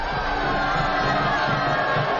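A large crowd roars and cheers at public executions atop a blood-soaked Mayan pyramid in Apocalypto, a loud, continuous wall of massed voices with no breaks.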